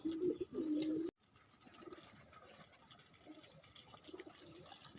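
Pigeons coo loudly and close on a rooftop for about a second, then fall away to a faint, uneven background with soft scattered sounds.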